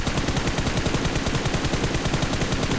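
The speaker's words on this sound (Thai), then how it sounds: "มีเสียงปืนอยู่ทางซ้ายด้านหน้าเรานะครับ" Rapid automatic gunfire from the mobile battle-royale game PUBG Mobile, a continuous, loud stream of evenly spaced shots rattling throughout with no pauses.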